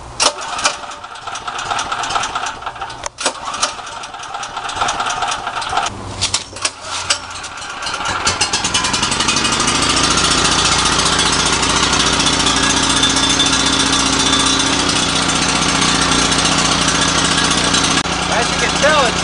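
A BM portable generator engine cranking with a few uneven pulls, then catching and settling into a loud, steady running roar close by, with someone talking over the start.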